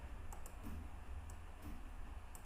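A few soft, quick computer keyboard key clicks as copy and paste shortcuts are typed, faint and close over low background hum.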